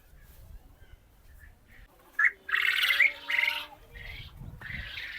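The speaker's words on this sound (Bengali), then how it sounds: "এগুলো হচ্ছে এমু পাখি" Emus at a resort bird farm in Bankura give a few loud, harsh squawks in the middle, close by, over a quiet outdoor background with no talking.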